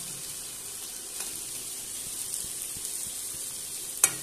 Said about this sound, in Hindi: थोड़ी देर इसी तरह हम खोल करके इसे सौंधा थोड़ा सा करेंगे।